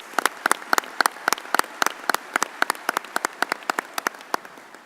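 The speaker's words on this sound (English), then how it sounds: "let's give these two a round of applause" An audience at a TCOLE bimonthly commission meeting applauds, heard as a sparse run of distinct individual claps, fairly steady and close, from a small group rather than a large crowd.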